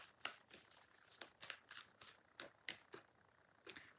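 Cards from an energy card deck being shuffled and handled, a series of soft, crisp flicks and slides spaced unevenly, faint and close in a quiet room.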